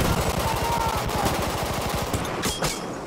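Rapid bursts of automatic gunfire from an SMG 08/18 in Battlefield 1, a dense rattling volley lasting a few seconds, with a couple of sharper shots near the end.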